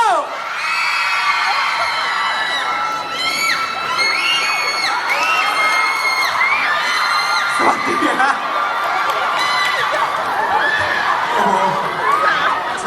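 Crowd on the second floor of an indoor event screaming and cheering, a dense, sustained wave of shrill shrieks and whoops that holds loud for the whole stretch.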